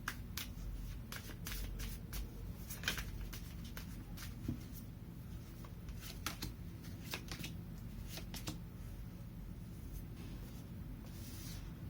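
Tarot cards shuffled by hand in a quiet room, a steady run of soft riffling and papery flicks with sharper card snaps scattered throughout, close and moderately loud with no talking.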